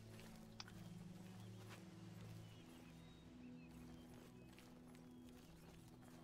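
Horse hooves clip-clop in The Elder Scrolls IV: Oblivion, a steady run of soft thuds over a constant low droning game ambience that lasts throughout.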